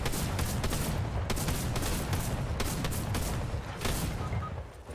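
Gunfire from the video game Fortnite, a dense, continuous volley of loud shots with sharp cracks repeating over a steady rumbling bed throughout.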